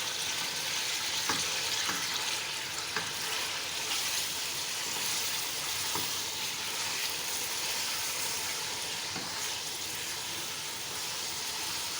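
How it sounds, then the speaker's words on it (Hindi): Mutton browns in a pot with a dense, even hiss of frying that runs without pause, with occasional faint clicks of stirring. "गोश्त की थोड़ी भुनाई कर लें"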